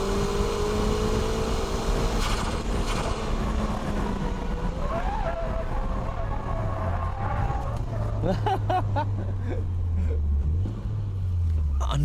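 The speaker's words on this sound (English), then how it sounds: "Okay, shall we try this dynamic drifting?" A car drifts through a third-gear 100R corner at Ebisu circuit, engine revs rising and falling with tire squeal and skidding, loud and continuous, with someone talking over it.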